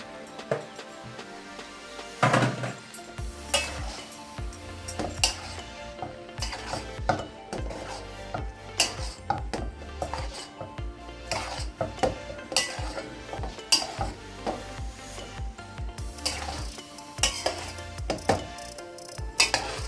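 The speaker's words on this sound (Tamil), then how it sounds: "இப்போ இந்த நேரத்தில் நான் இந்த ப்ரெட்டெல்லாம் இதில் போடுறேன்" Bread pieces go into a pan of spicy masala and are stirred, giving a steady run of utensil scrapes and clanks against the pan with a faint sizzle underneath, no voices.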